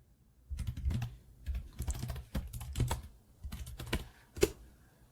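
Computer keyboard typing in quick, irregular clusters of close, crisp keystrokes, fairly quiet and with no talking.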